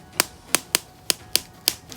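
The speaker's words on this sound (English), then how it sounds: "Wow, you can hear the clicking sound." Joints of a 1/12 scale Peter Parker (Spider-Man) action figure click as the limbs are bent, six or seven sharp, close, isolated clicks spaced irregularly over two seconds with no talk.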